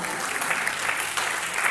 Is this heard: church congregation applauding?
yes